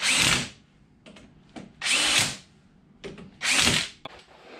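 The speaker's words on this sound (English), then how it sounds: "make sure again that you're going to zap them down snug with our impact" Impact wrench tightening ring gear bolts on a 14-bolt axle during a regear: three loud rattling bursts, each about half a second, with quieter handling clatter between them, close up.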